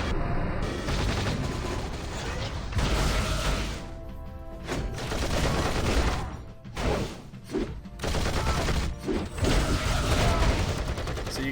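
Turrets in the mobile action game Marvel Future Fight fire continuously throughout, a dense, loud barrage of rapid shots layered over busy game music and effects, with brief dips between volleys.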